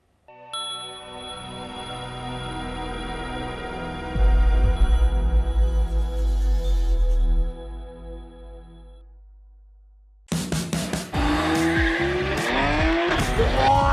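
A souped-up car revs and spins, a sustained tire squeal and skid rising loud in the middle, then cutting off before a brief burst of engine roar and squealing returns near the end.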